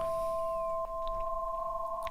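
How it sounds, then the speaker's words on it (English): A synth sustains a steady tone through a tape delay effect with wobble and wow and flutter, giving a faintly warbling pitch, with a soft click partway through. "Tape delay, sounds nice, with wobble, with wow and flutter"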